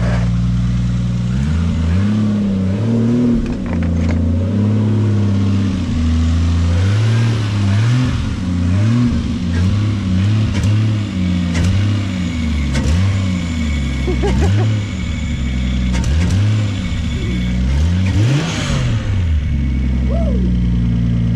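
A Toyota Supra truck with a turbocharged 7MGTE engine revs again and again, loud and close, its pitch climbing and dropping in repeated throttle blips over a steady idle.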